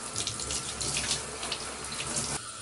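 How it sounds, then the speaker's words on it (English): A tap runs steadily while bath gel is washed off hands at a sink, giving close splashing water with a continuous rushing flow that drops off just before the end. "Okay, let me wash it off."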